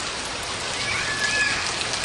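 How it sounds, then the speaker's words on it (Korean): A summer rain shower falls on a school forest, a steady, dense hiss of drops on leaves and ground with no voices. "한여름의 소나기가 도시숲의 아이들을 적신다."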